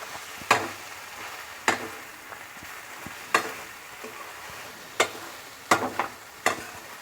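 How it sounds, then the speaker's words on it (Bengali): A dried fish chutney with raw turmeric and fresh coriander being stirred in a pan, giving a low, steady sizzle broken by about seven sharp scraping clacks of the spoon, spaced irregularly. "ধনেপাতাটাকে আমি একটু রান্না হতে দেব, একটু নেড়ে চেড়ে চাটনির সাথে একদম মিশিয়ে নেব।"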